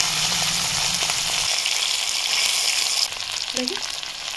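Small fish fry in hot oil in a wok with a steady, close, loud sizzle and crackle that runs throughout with no talking, shifting slightly brighter near the end.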